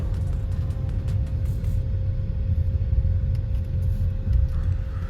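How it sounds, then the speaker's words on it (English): A constant low rumble of road and engine noise inside a moving 2023 Hyundai Alcazar 1.5 Turbo, with a steady airy hum from the air conditioning vents and no talking. "The only noise you can hear is of the air con vents."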